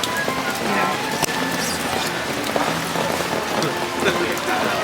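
Rain pours steadily throughout at a wet, flooded evening event, a continuous close patter on surfaces with faint voices and crowd movement mixed underneath.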